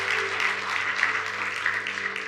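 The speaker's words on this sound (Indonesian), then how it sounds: "Yang setuju berikan tepuk tangan buat Tuhan." Brief applause from a congregation at a Christian sermon, clapping for God, fairly faint with steady organ or keyboard tones held underneath.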